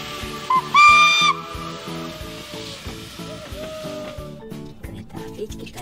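A toy train lets out a brief, bright steam-whistle toot over a steady, rhythmic chugging loop that continues underneath.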